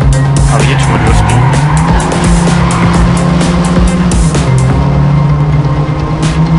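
In the Trackmania 2 Canyon racing game, a car drifts through a turn with steady, loud tire squeal and skidding over a roaring engine drone, sustained and close throughout.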